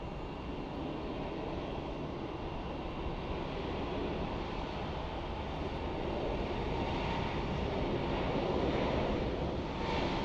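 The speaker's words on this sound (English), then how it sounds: "So this is one of our international flights." An airliner on an international flight at Sky Harbor International Airport at night, its jet engines a steady, broad roar that swells slightly toward the end, heard from a distance and without talk.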